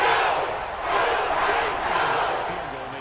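Simulated stadium crowd in Madden 21 roaring steadily after a made field goal, a broad sustained cheer with slight swells, moderately loud throughout.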